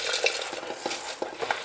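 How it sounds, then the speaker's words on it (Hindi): Whole masoor lentils tumble into water in a pressure cooker, giving a continuous busy rattling, splashing and clinking, close and steady for under two seconds with no voices. "अब हम कुकर में सारी दाल डाल देते हैं।"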